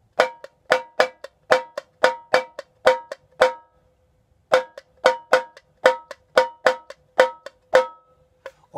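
Tambourine for a samba batucada groove: open-head strokes ring out in a quick, even pattern, with finger-muted taps between them cutting the notes short, about two phrases separated by a brief pause, close and clear with no talking.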